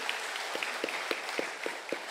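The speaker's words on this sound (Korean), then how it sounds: "우리 하나님께 영광과 감사의 박수 힘차게 올려드릴까요?" Congregation at a Korean church revival service claps in thanks, a faint spread of applause over room noise with a few sharper, evenly spaced claps standing out.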